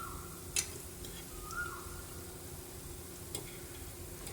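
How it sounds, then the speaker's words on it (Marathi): Something fries gently in ghee over a low flame until golden and crispy, giving a steady, quiet sizzle with a few faint clinks and stirring touches from a utensil. "गोल्डन कलर यायला हवं इतपतच ह्यांना फ्राय करायचं आहे"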